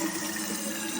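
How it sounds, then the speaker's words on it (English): A toilet tank refills through a newly replaced fill valve after a test flush, with a steady, close hiss of rushing water running continuously. "You'll see that the water is continuing to fill the tank"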